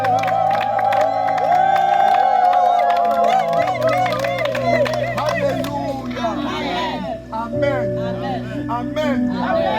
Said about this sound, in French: Acclamons fort et crions.